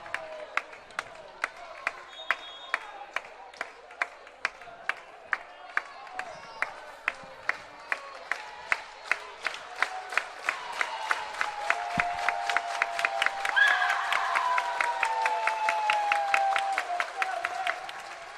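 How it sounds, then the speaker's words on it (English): A large crowd at a college volleyball match claps in a steady, rhythmic beat that builds over time, with cheering and voices swelling underneath toward the end. "Get those hands clapping, fans."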